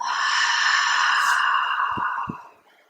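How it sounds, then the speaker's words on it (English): A long, deep breath is pushed out during a yoga session, a breathy rushing sigh lasting about two seconds, close and clear, trailing off into quiet with a couple of soft knocks. "Beautiful inhale. And then exhale."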